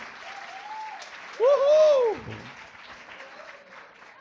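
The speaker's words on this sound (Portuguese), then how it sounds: "Bate palmas ao Senhor" Congregation clapping at a church service, a continuous crowd applause with a person whooping loudly over it midway and voices cheering in the background.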